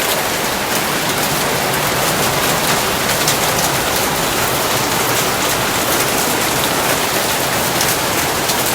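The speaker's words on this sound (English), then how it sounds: "Just fucking raining up a fucking storm." Heavy rain pours in a loud, dense, constant hiss with steady patter on surfaces, some hail mixed in during a storm, and no clear thunder or voices.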